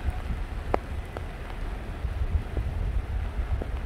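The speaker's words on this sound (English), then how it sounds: "Rain is coming down harder," Moderate rain falling steadily during a storm chase under nimbostratus clouds, a dense, even hiss of drops with occasional sharper taps on nearby surfaces and some low wind rumble on the microphone.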